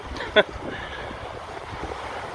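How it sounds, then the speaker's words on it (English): Atlantic Ocean surf washing in at the water's edge on a Florida Keys beach, a steady broad wash with wind noise on the microphone and one brief sharp knock near the start. "And that's the Atlantic Ocean."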